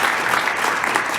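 A dense wash of audience applause for conference faculty, many hands clapping continuously at steady volume in a hall, with no pauses or voices standing out.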